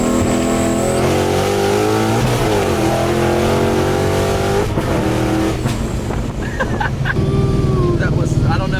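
A Ford Mustang S197 engine revs hard and climbs through the gears, with an abrupt hard shift into third partway through, loud and close inside the car with voices heard over the engine.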